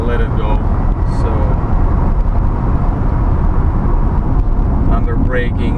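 An original 1986 Nissan Skyline R31 with the turbocharged RB20ET engine gives a loud, continuous engine and road roar at highway speed, heard from inside the car with someone talking over it.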